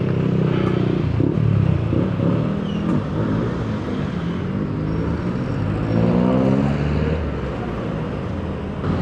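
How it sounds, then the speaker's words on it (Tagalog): Road traffic surrounds a rider on a Mio Gravis scooter on the way from Bacolor to Malolos, a constant rumbling drone of engines and tyres that holds steady and fairly loud throughout. "traffic."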